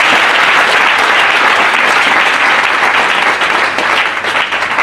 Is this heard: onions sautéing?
no